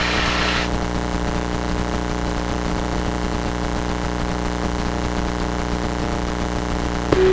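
A light aircraft, Four Delta Golf, runs its engine steadily at a constant drone throughout, loud and close, with a brief higher burst at the start and no talking.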